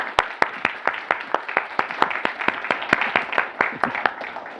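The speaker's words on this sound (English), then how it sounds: "start with a little round of applause for the organizers" An audience applauds in a steady patter of many hands clapping, moderately loud and fairly close, lasting throughout.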